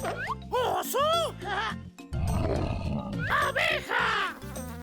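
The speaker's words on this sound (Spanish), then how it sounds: "¡Oso!" A cartoon bear lets out a rough, growling roar lasting about a second and a half amid a cheerful children's tune.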